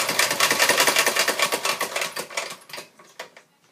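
A sewing machine double-stitches corset seams at close range, a loud fast rhythmic clatter of needle strokes that keeps a steady pace, then slows and trails off into a few spaced final stitches.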